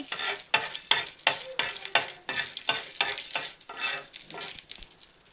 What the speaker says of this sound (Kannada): ಇದಕ್ಕೆ ಸ್ವಲ್ಪ ಕಾಳು ಮೆಣಸು ಸೇರಿಸ್ಕೊಳ್ಳೋಣ. ಇದನ್ನು ಸ್ವಲ್ಪ ಫ್ರೈ ಮಾಡ್ಕೊಳ್ಳಿ